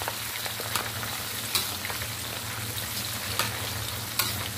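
Baby green beans stir-fry with garlic and oyster sauce in Chinese style, giving a steady, close sizzle with scraping stir noises throughout and no talking.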